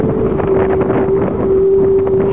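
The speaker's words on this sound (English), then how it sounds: "These little holes up here in this rail where you slide the tandems on the trailer of this semi, the wind's blowing through there and making the tune." Wind blows through small holes in the tandem slide rail of a semi trailer, producing a steady, sustained whistling tone over loud, rushing wind buffeting.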